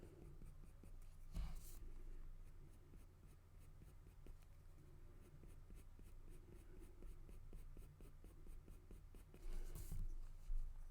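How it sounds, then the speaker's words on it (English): Graphite 2B pencil strokes scratch across paper while sketching dog fur, a steady series of quiet short scratches heard close up, with a couple of louder rustles. "I'm just going to put in some pencil strokes to indicate the direction of the fur"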